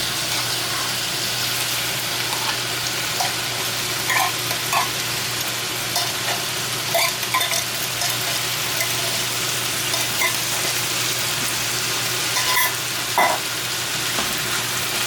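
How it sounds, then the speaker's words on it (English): Sauteed corned beef hash stirred and mixed in a pan, a steady close sizzle with scraping and clinking of the spoon throughout, no talking. "we're going to mix the sauteed one"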